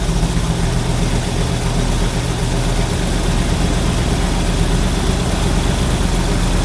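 A carburetted engine idles steadily right after a new carburetor is fitted, a continuous low rumble with a faint upper hiss, its idle speed settling lower, with no voices.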